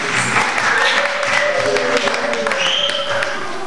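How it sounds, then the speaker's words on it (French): Church congregation clapping hands together in worship, a dense steady wash of applause lasting throughout, loud and close, with voices and some singing or calling mixed underneath. "Let's clap our hands."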